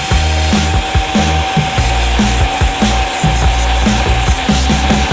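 A chef's knife blade being ground on 60 grit abrasive gives a continuous, loud, steady grinding roar with a constant tone throughout, and no speech over it.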